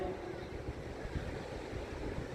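Sea waves wash onto St Ives beach in Cornwall as a soft, steady surf roar mixed with wind buffeting the microphone, heard faintly from some distance.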